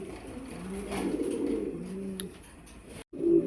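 A pair of black checker Mundian pigeons cooing, a low throaty rolling coo repeated a few times close by, with a brief gap before another coo at the end.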